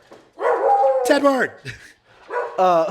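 A dog barks and yelps in a few excited, howling bursts close by, between short pauses, with no talk over it.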